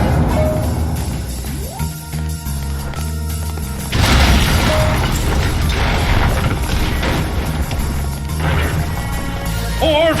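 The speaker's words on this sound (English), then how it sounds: "I bet he can't survive an exploding building." A building exploding in the game Freedom Force: loud repeated crashes and booms with crumbling debris, a big surge of blast noise partway through, and a musical score playing underneath.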